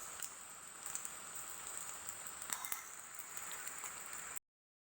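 Light drizzle falling on a hillside farm plot planted with cassava and bananas, a soft, steady patter with faint scattered drops throughout, fairly quiet and with no voices.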